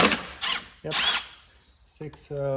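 Power drill backing screws out of a plastic underbody shield on a Mercedes-Benz GL, several short whirring bursts with pauses between them, close and fairly loud.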